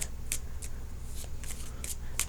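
Tarot cards shuffled by hand give several quick, crisp riffling bursts, close and distinct, separated by short pauses over a quiet background.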